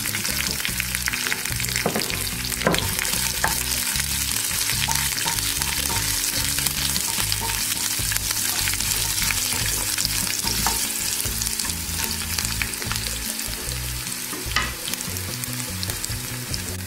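Garlic hitting hot tempering oil along with curry leaves, a loud continuous sizzle and crackle that holds steady throughout, with occasional stirring scrapes and no voices.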